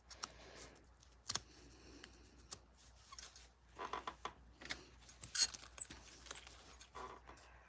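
Scissors snip through zipper tape from the back of a sewn zipper pocket, a run of sharp close metallic cuts and clicks spread unevenly over several seconds, with small handling rattles between them.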